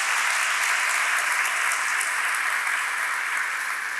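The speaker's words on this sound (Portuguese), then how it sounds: "pode dar uma salva de palmas para Jesus" A church congregation claps together in steady, dense applause, sustained and even throughout the short burst, with no voices on top.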